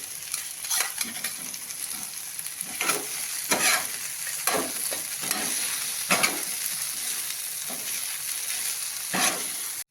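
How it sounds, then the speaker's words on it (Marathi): Fried paneer and soft cooked vegetables are stirred on a hot tawa for paneer pulao, giving a steady close sizzle broken by repeated scraping and clattering spatula strokes, with no voices. "पनीर हे आपण तळून घेतलेलं पनीर यामध्ये टाकून देऊ"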